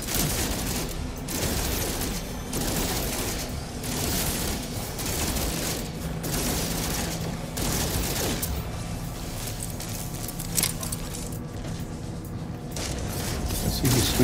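Rapid bursts of sentinel gunfire in the video game No Man's Sky, fired repeatedly at a farming base amid mechanical whirring and clanks, loud and dense, with short gaps and sharper cracks toward the end.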